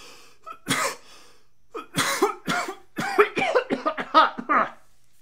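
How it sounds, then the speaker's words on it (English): A person coughs in a series of harsh, close bursts, a single cough, a pause, then a run of rapid coughs with no words. "How long have you had that cough?"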